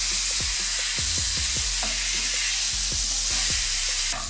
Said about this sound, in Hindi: ऑयल गर्म हो गया, अब चिकन हम इसके अंदर डाल देंगे। एक दफ़ा इसे हिला लेंगे